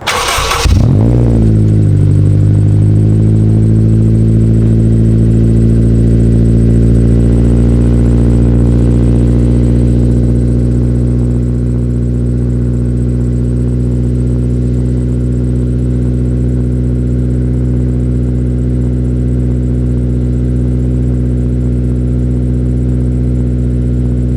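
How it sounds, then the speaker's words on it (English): A car engine cranks and catches with a loud start, then settles into a steady, loud running hum near 95 dB that continues throughout. "run in, turn my car on, come back here, and then we'll check the dB meter."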